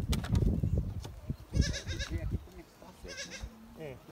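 Goats and their young kids bleating in a farm pen, several calls overlapping at close range amid a busy mix with people talking nearby.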